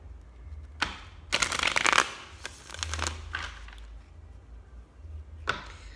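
Tarot cards shuffled by hand at close range, a few separate bursts of riffling and sliding cards, the loudest near the start, with quiet pauses between.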